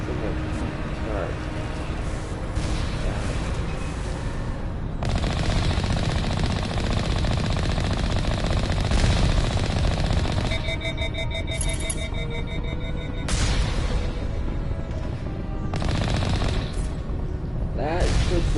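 Sustained bursts of rapid turret gunfire and booms in Mass Effect, with a repeating beeping alarm tone in the middle, loud and dense under occasional talk.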